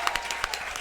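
Brief burst of podcast-studio audience clapping, a handful of distinct close claps in a loose uneven rhythm over a background hum.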